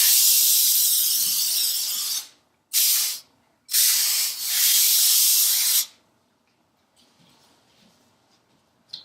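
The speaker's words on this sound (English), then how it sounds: "now we're just going to spray the edges" Epoxy adhesive sprayed onto the edges of a yoga mat, three close, loud hissing bursts of about half a second to two seconds, followed by near silence with faint rustling.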